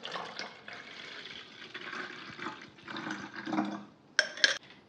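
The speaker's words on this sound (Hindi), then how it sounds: "इस पानी को छानकर आप स्प्रे बॉटल में फिल कर लीजिए" Turmeric-tinted water, strained and poured into a spray bottle for lucky bamboo care, gives a soft steady trickle and splash of liquid, ending in a couple of brighter sharp sloshes near the end.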